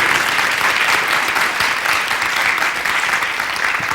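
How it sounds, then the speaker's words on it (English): Sustained audience applause fills the hall, dense steady clapping from a large crowd at a filmmaker dialogue event, loud and continuous with no pauses. "Maybe they were all applauding for you."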